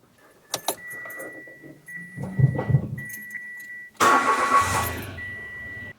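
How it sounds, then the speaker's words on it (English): Keys jangle, a Mitsubishi Mirage engine cranks and catches with a loud roar, then settles into a steady idle. "And now we start the engine."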